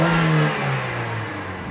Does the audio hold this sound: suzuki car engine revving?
yes